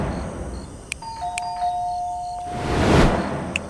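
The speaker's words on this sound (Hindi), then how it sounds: "डोरबेल बजाई थी।" An electronic doorbell chimes with a couple of clear ding-dong tones, followed by a broad rising rush of noise near the end, with no voices.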